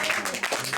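A congregation applauds for Jesus during a church service, a short burst of dense, steady clapping with a crowd murmur blended in.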